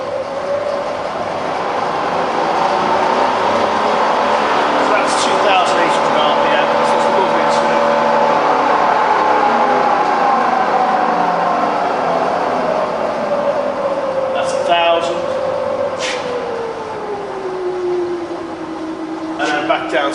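A rebuilt Bridgeport milling machine, fitted with new NSK or SKF bearings, runs steadily at top spindle speed, a sustained whirring tone that glides slowly lower near the end, with someone talking over it.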